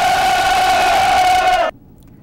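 Korean soldiers of the Dongmyeong unit serving in southern Lebanon let out a single loud, sustained shout together, which holds for about a second and a half before cutting off sharply into near silence.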